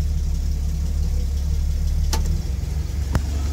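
A Chevrolet Corvair engine idles in drive after an idle fix, a steady, smooth low rumble heard up close and loud, with a couple of brief clicks and no voices.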